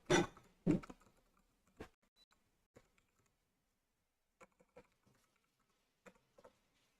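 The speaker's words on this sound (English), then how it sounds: "I have to type it in with my hands." Sparse keystrokes clack on a computer keyboard, a few close clicks in short uneven bursts separated by quiet gaps.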